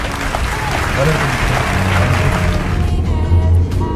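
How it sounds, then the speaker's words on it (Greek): Applause for Pavlos Stamatopoulos, a sustained wash of clapping from an audience that swells slightly toward the end, with voices mixed in underneath. "Ένα χειροκρότημα για τον Παύλο Σταματόπουλο, παρακαλώ."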